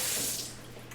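Two and a half pounds of pork ribs rinsed under a running kitchen tap, with a steady, close hiss of flowing water splashing over the meat throughout a short burst.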